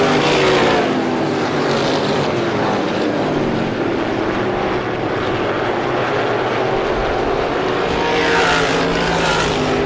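Race cars roaring around the Star Speedway oval during a Super Feature, with a steady, loud engine drone that swells and fades as cars battle for fourth position.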